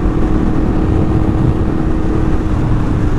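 Yamaha MT-10 motorcycle pulling hard on a test ride, its engine a loud, steady roar with dense wind rush throughout, no voices.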